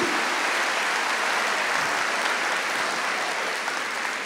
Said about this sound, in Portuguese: Um padre, aplauda ele.